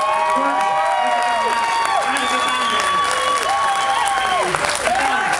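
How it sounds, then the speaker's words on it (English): A crowd at a Team Chevy racing display in Las Vegas claps and cheers for NASCAR driver Jeff Burton, loud applause with scattered whoops, while whistling or sliding tonal sounds and voices run over the top. "Let's give a big round of applause one more time."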